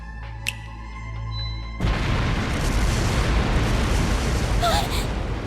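Explosive artifacts scattered through a palace in the Trails through Daybreak video game detonate as a fireworks show: after a musical intro, a loud sustained rumbling blast fills the rest, with a brief crackle near the end.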